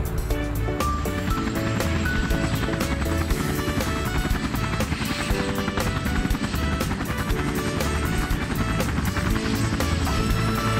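Helicopter rotor and engine noise running steady and loud throughout, a continuous whirring drone with no speech over it, heard in a cartoon scene about rescue vehicles repairing monster truck tires.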